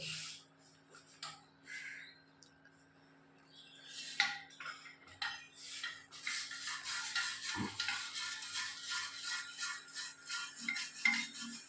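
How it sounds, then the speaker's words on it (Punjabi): A brush scrubs inside a tea thermos bottle, scratchy bristle strokes that start sparse and turn into rapid, continuous rubbing with a few hollow knocks, close and fairly quiet. "ਹੁਣ ਆਪਾਂ ਮਾਰਾਂਗੇ ਇਹਦੇ ਵਿੱਚ ਬੁਰਸ਼"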